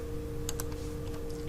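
A few light key presses on a computer keyboard click briefly over a steady electrical hum, sparse and close, with no talking.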